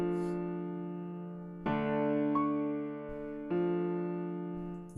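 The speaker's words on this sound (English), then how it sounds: "it is a grand piano from Afrobeat." An Afrobeat grand piano sound in FL Studio plays simple sustained chords, changing three times in a slow, quiet sequence with no one talking.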